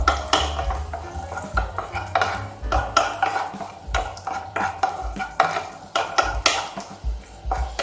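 Raisins sizzle in hot ghee in a pan while a spoon scrapes and clinks against the metal in an uneven stirring rhythm, close and fairly loud, with no voices.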